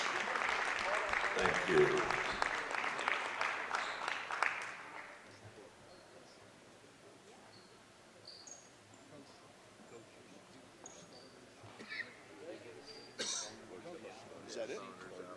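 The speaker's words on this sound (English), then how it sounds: "Let's have one final applause for our senior cheerleaders." Audience applause for senior cheerleaders at a high school basketball game, loud clapping for about four seconds that quickly dies away, leaving quiet room noise, scattered coughs and a brief spoken thanks.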